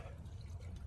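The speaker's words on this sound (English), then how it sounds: "I'm just going to go around, try to water every little section here, give it some water" Water poured over strawberry plants in garden soil, a steady low splashing and trickling that runs continuously and close by, with no one talking.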